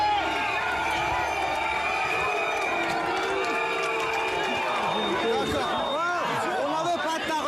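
Outdoor crowd booing and jeering President Emmanuel Macron at a public appearance amid pension reform protests, a loud, dense wall of voices with shouted calls and whistles rising and falling throughout.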